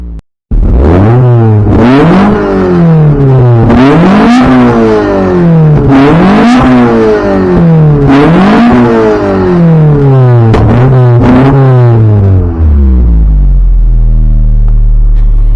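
A car engine with an oil leak in its engine bay is revved repeatedly outdoors, with loud, close, rhythmic rises and falls in pitch before settling into a low, steady idle.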